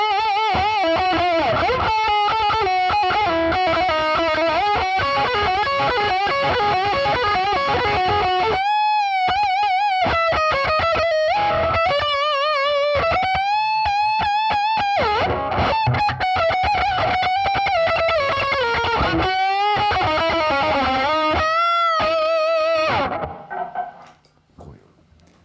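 Overdriven electric guitar solo tone from an overdrive pedal, sustained distorted lead notes with bends and runs, loud and continuous, cutting off near the end.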